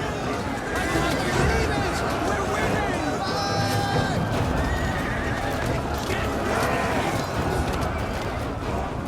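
Cavalry horses charge in a Rome 2 Total War battle, with repeated whinnies and neighs over constant galloping hoofbeats and a dense clamor of battle and crowd noise, while a voice talks over it.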